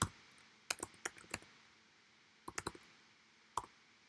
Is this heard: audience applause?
no